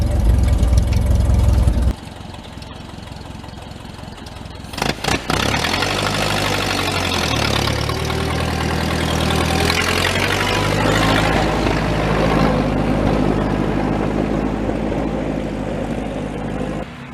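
A stock 1930 Plymouth rumble seat barn find car idles loudly up close, then its engine settles and pulls away in a steady mid-pitched drone with shifting tones as it drives by.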